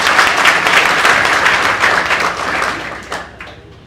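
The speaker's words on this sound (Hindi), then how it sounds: "तो एक बार अनिल सर के लिए तालियां।" An audience at a student success talk breaks into loud, dense applause that holds steady, then thins and fades out toward the end.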